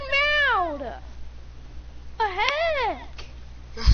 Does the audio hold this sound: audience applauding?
no